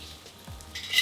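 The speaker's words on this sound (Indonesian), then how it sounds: "Nih, kita tumis di pinggirannya gini." Soft sizzling as food is stirred against the sides of a pan while sautéing, with a brief scrape of a utensil and a louder hiss swelling at the end.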